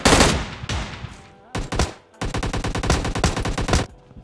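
Rapid automatic gunfire finishing off a knocked-down enemy in a battle royale shooter game, several loud close bursts with short gaps and one sustained rattling volley, no talk.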